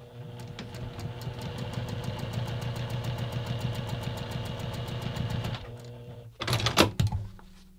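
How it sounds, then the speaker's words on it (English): A sewing machine stitches quilt fabric steadily in a fast, even mechanical rhythm for several seconds, then stops, followed by a brief rustle of fabric being handled. "take this back over to the sewing machine, and we're going to stitch the line"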